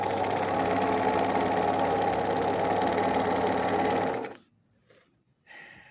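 A 12-needle industrial sewing machine runs loud and steady for about four seconds with a dense mechanical whir, then stops abruptly, leaving near silence and a faint rustle.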